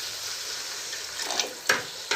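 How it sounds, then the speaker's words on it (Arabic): Water poured a little at a time into a spice mixture for rice in a home kitchen, a soft continuous trickle and splash, close and fairly quiet, with a few brief louder splashes near the end. "بننزل بشويه ميه كده صغيرين"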